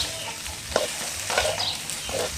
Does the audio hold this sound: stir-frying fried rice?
yes